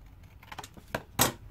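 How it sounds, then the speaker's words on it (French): Scissors snip out a small paper triangle from an envelope page for a handmade notebook, a few quiet separate cuts with one sharper, louder snip near the end. "Et ce petit triangle, je vais venir le découper"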